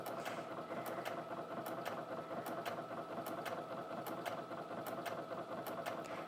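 A Brother Innov-is F560 sewing machine stitches fabric in a quick, steady mechanical whir with regular clicking needle strokes, close and continuous with no talking.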